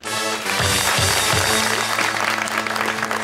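A studio audience at a Pakistani cricket talk show bursts into steady, loud applause that fills the whole stretch, with music or low tones running underneath.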